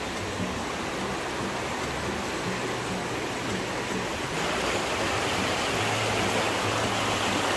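Continuous rushing of a river that is less muddy than usual, a broad steady roar that swells slightly partway through, with no voices.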